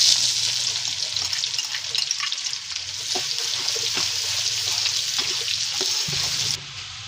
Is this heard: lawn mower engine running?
no